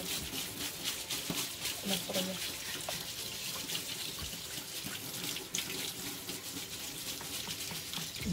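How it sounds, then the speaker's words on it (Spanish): Kitchen tap water pours steadily into a sink as rice is rinsed under the stream to remove starch, a continuous close splashing wash with faint background sounds. "Al chorro de agua enjuagaremos nuestro arroz para quitarle el almidón."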